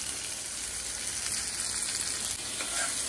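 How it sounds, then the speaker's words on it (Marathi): Pomfret fish fries in a pan with a continuous, even sizzle and crackle. The texture stays moderate in level and close, and nobody speaks over it. "इथे आपलं होतंय पापलेट मस्तपैकी"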